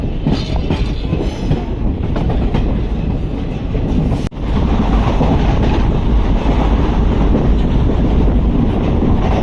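The 22668 Nagercoil Express on the Coimbatore–Tirunelveli route runs at around 110 km/h, a loud, steady, close rumble of wheels and carriage noise that continues throughout with a brief dip near the middle.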